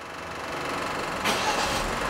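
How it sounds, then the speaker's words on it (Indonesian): A car engine is started remotely from a phone, cranking and catching with a sudden broadband surge partway through, then settling into a steady idle close by. "Kita nyalakan dulu mobilnya."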